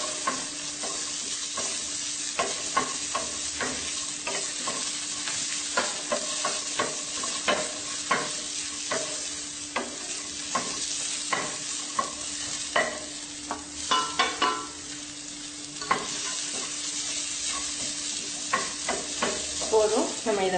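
Steady sizzling of onion, garlic and ginger frying in oil for chicken kuzhambu, with frequent scraping and stirring clatters throughout, close and continuous with no talking.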